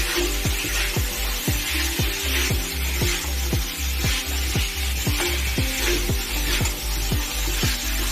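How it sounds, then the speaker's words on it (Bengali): Boiled chickpeas are stirred with spices in an oiled pan, making a rhythmic run of scraping strokes about twice a second, close and fairly loud, over a low steady hum. "এগুলো আমি এবার মশলার সাথে মিশিয়ে নেব"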